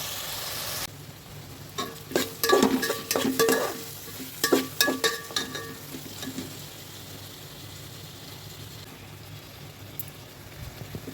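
Tomatoes and masala frying for Nagpur-style mutton biryani, a steady sizzle under repeated scraping stirs of a spoon against the pan, busiest in the first half then settling to a constant hiss.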